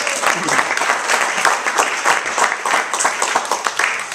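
Guests at a wedding reception during a toast clap continuously and loudly for about four seconds in a dense, even stretch of applause.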